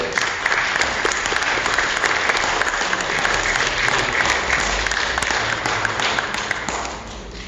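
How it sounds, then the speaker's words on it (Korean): Audience at a Korean-language lecture on unification in New Malden's Koreatown, applauding in a thick, sustained round of clapping that holds steady and eases slightly at the end. "맞는 것 같은 박수 한번 쳐주세요"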